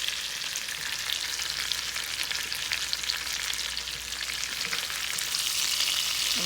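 Fish frying in a pan gives a steady, close sizzle with a constant crackling hiss throughout and no talking.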